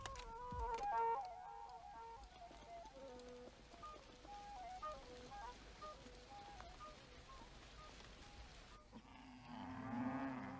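Cattle moo out on broad plains, with a low bellow beneath steady music and rhythmic ticking before the sound shifts near the end.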